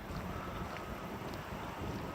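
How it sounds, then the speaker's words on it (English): Steady wind buffets the microphone outdoors at a resort construction site in Kissimmee, Florida, a constant low rumbling roar with no voices. "Today, it's a little bit on the windy side"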